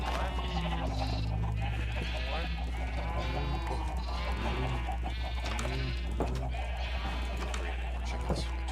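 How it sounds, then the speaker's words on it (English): A crowd of Minecraft farm animals, chickens and cows, calls over and over, bleating and clucking in a steady overlapping din under a low constant hum. "Chickens."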